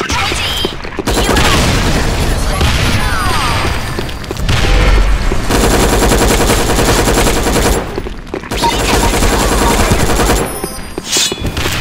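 Heavy rapid gunfire with booming blasts in the Sudden Attack shooter, bursts of automatic fire and a grenade explosion crowding together loudly, broken by brief near-silent gaps.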